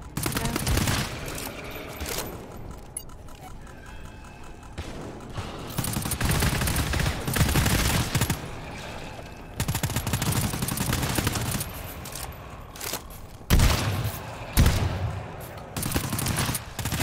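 Rapid gunfire from a mounted gun in the video game GTFO, loud bursts of sustained automatic shots broken by short pauses, with players talking over the shooting.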